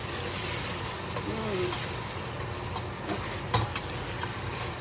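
Goat karahi cooking with spices in a pan, a low steady sizzle running throughout with a few faint clicks and one brief louder knock near the end.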